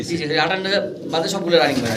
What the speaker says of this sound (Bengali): এখানে যে পাঁচটা কবুতর আপনারা দেখতে পারতেছেন পাঁচটাই হচ্ছে মাদি রানিং মাদি